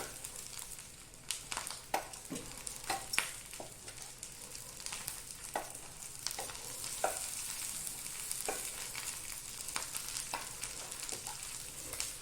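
Onion, garlic and red chilies sizzle and fry in a pan for erissery, with a steady hiss broken by sharp crackles and the scrape of stirring. The sound is quiet, close and continuous, with no voices.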